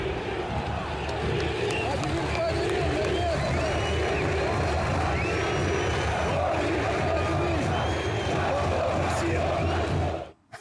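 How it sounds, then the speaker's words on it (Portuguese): Vasco fans at São Januário chant the coach Diniz's name as a dense, loud crowd roar of many voices that holds steady and rhythmic throughout, cutting off abruptly at the end. "a torcida do Vasco gritando o nome do Diniz"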